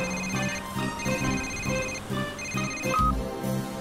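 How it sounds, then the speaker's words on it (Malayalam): Telephone ringing in a Hindi children's cartoon dubbed into Malayalam, a repeating electronic ringtone with steady tonal beeps over a light background music bed, fairly close and loud, no talk over it. "ആ ഫോൺ റിംഗ് ആവുന്നുണ്ട്."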